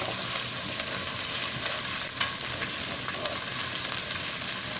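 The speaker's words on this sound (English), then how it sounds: "my olive oil in my Dutch oven, and now I'm adding my chopped onion, my chopped celery," Chopped onion, celery and carrots fry in olive oil in a Dutch oven, giving a constant crackling sizzle with a few sharper pops and stirring clicks, close and steady without speech.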